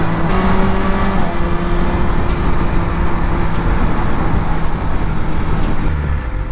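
A Shelby GT500 with its stock exhaust drives along a road, its engine a loud, continuous low rumble blended with heavy road and wind noise, holding steady with no pauses.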